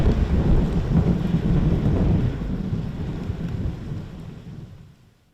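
Thunder rumbles low and heavy over a steady wash of rain and wind, then fades away toward the end.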